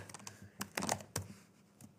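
Quick bursts of key presses on a computer keyboard while typing into a Chrome browser, a short run of close, crisp clicks with brief gaps, no talking.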